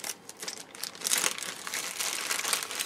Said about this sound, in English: plastic bag, take out the parts,